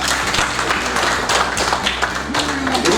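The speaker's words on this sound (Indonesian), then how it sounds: "Tepuk tangan dulu." Audience clapping at an ombudsman event, a dense, loud burst of many hands applauding continuously under a low hum from the room.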